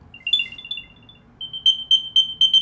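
An Apple AirTag 2nd generation tracker plays a bright electronic chirp tune, followed by five crisp rhythmic beeps, near and a bit louder, with faint background hum.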